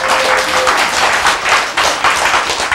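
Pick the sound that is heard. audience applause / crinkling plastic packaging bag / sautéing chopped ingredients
audience applause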